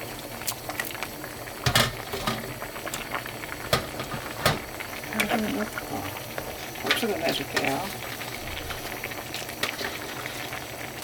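Spicy Korean rockfish stew (ureok maeuntang) bubbling in a pot with vegetables and green onion, a steady close simmer with soft pops and patters, heard under a person talking throughout.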